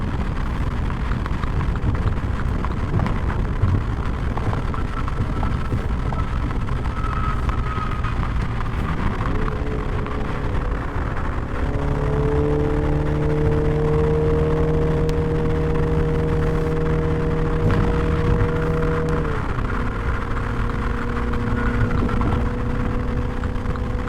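A 2020 MINI JCW Clubman driving with a steady engine drone and road rumble, its pitch climbing through a rev midway, then a shift to a lower steady tone, continuous and fairly loud.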